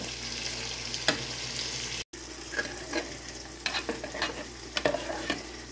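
Sugar melts into caramel for a condensed-milk pudding while a utensil stirs it from the edges of the pan toward the center. Steady close sizzling and frying under repeated scraping strokes, with a brief dropout partway through.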